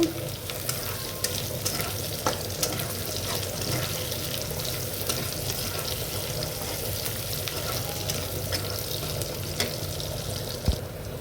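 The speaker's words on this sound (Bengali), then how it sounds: "আমার কাজু বাদামটা আমি ভেজে ফেলবো, ভাজবো, হালকা ভাজাতে দিব।" Cashew nuts fry lightly in a pan with a steady, fairly quiet sizzle and occasional stirring clinks, heard close up with no voices.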